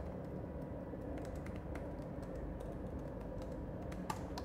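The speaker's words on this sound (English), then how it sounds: "put a backspace, and here if you want, you can just type" Steady typing on a computer keyboard, light rapid key clicks running continuously at a moderate level with a slightly louder keystroke near the end.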